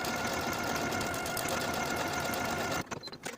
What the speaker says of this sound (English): And I'll sew buttonholes in place away from this bottom sewn edge.